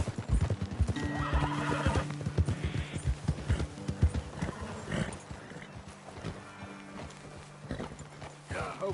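Horses in a Red Dead Redemption II game scene clip-clop steadily at a trot, with repeated whinnies and neighs over a dense, continuous layer of hooves and ambient game sound.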